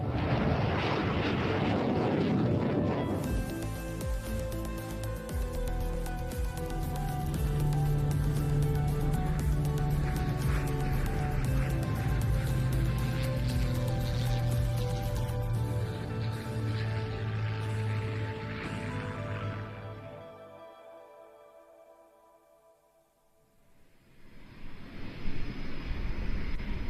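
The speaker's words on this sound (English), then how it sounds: "The Dassault Mirage F1 is another of the successful French Mirage family." A Dassault Mirage F1 jet roars loudly at an air show, its engine noise sustained and powerful for about twenty seconds before dropping away to near quiet, then a fresh rush of engine noise swells back near the end.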